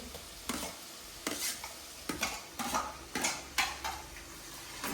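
Ginger-garlic paste fries in a pan for a soybean vegetable dish, a low sizzle broken by regular scraping stirs of a spoon against the pan, about six strokes, close and moderate in level.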